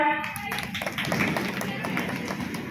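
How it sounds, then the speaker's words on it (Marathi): A crowd at a school quiz competition claps for a team, with quick overlapping hand claps, loud and fairly close, and voices murmuring underneath. "त्यांच्यासाठी टाळ्या"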